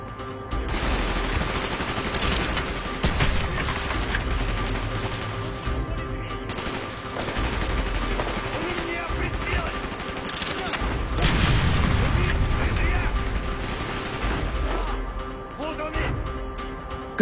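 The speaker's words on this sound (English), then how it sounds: "Gunfire's drawing attention." Sustained gunfire from Call of Duty: Black Ops, dense bursts of automatic weapons and booming blasts running continuously through a combat scene, loud and layered, with radio-style voices talking over the battle.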